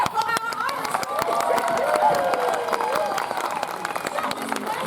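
Audience cheering and applause at a Renaissance faire Queen's Court, a crowd of clapping and calls rising around a whistling or sung tone, with scattered voices throughout.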